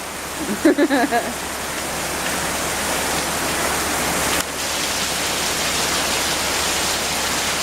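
Rain pours down in the high desert as a dense, continuous hiss that fills the whole scene at even loudness, after a brief voice near the start.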